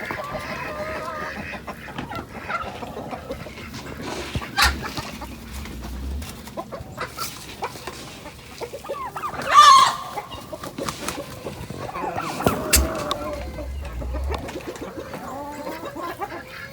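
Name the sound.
chickens clucking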